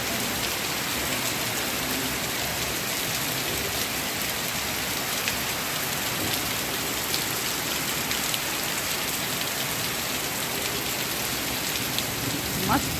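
Heavy rain pours down in Meerut, India, a dense, steady hiss of drops on surfaces that continues evenly and loudly throughout, with no pauses.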